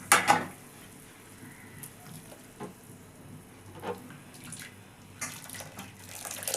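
Water pours off freshly cooked rice as it is drained in a home kitchen, a splashy rush starting loud and then settling into a softer trickle with a few small surges, no voices.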